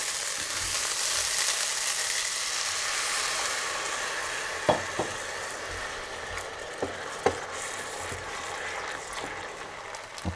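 Rice sizzling and catching in a frying pan makes a continuous close hiss, broken by a few sharp taps and scrapes of a utensil.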